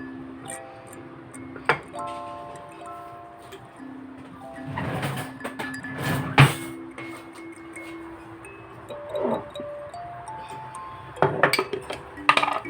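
A glass jar packed with plums for pickling is shaken and tapped, giving scattered clinks and knocks, with a busier burst of rattling midway and again near the end, close by and moderately loud.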